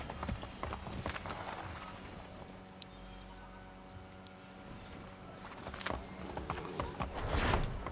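Rhythmic clip-clop of horse hooves with a horse's whinny in the Assassin's Creed game, steady walking steps under a low ambient hum, picking up and growing louder toward the end.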